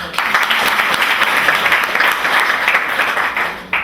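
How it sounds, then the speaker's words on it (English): An audience of university students at the University of Yaounde I breaks into sustained applause, a loud, even roar of many hands clapping that holds steady throughout before tapering off right at the end. "A round of applause for everyone."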